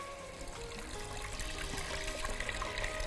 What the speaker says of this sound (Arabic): هنصب ميه هنا سخنه